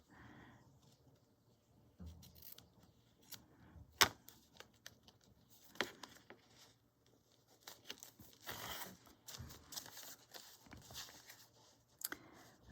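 Paper is trimmed for a decorated journal page, giving quiet close cuts, crinkles and small tearing sounds in irregular bursts, with one sharper snip standing out. No one speaks.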